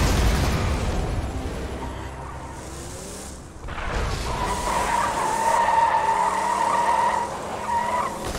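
A vehicle in Borderlands 3 skids with squealing tires, a rumbling engine and a burst near the start, then a sustained tonal engine whine as it drives on, loud and close.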